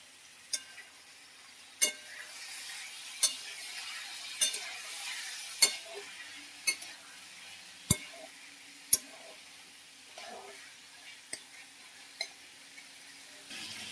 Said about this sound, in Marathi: आता आपण ह्याला फ्राय करून घेऊया.